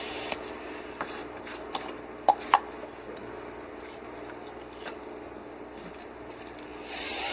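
Wet GFRC concrete mix being stirred by hand, soft continuous rubbing and squishing with a few sharp scraping clicks, close and fairly quiet.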